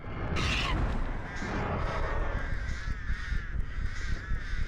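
Crows caw repeatedly around the Artist killer in Dead by Daylight, harsh overlapping calls over a low ambient drone, one loud burst early then a steady run of cawing.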